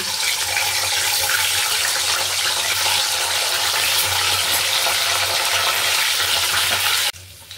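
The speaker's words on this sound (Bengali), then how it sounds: "এই তেলের মধ্যে আমি একটু ডিমটা হালকা ভেজে নেব।" Eggs fry in hot oil in a pan for an egg curry, making a loud, continuous sizzle that holds steady for about seven seconds before cutting off sharply.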